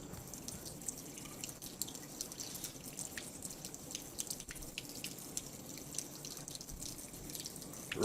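Water poured into a measuring container for a chemistry demonstration, with steady trickling and dripping at a low level and no speech.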